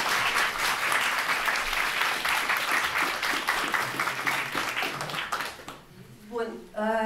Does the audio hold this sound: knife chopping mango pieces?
no